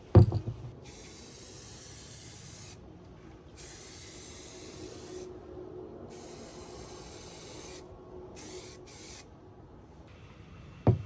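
High fill primer is sprayed from a can onto Yamaha Jog scooter bodywork in a series of sustained, close, loud hissing bursts separated by short pauses, with a couple of sharp clicks at the start and end.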